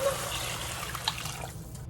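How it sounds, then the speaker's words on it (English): Chicken broth poured into a soup pot of onions, a steady wash of splashing liquid that runs continuously and fades slightly at the end, with no talking. "Pour that chicken broth in."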